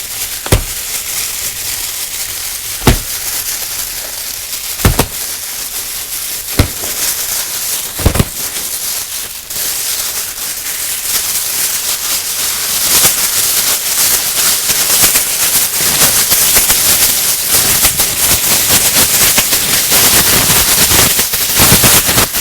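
Sheets of gift wrapping paper are set off like a string of firecrackers, giving a long run of sharp, loud bangs that starts as spaced single pops and builds into a dense, continuous crackling barrage, with no talk.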